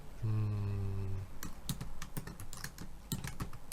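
Typing on a computer keyboard, a quick irregular run of close key clicks following a brief low tonal hum at the start.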